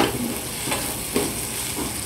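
Sambar ingredients being sautéed in an uncovered pan, giving a continuous close sizzle with occasional stirring scrapes and light clatter.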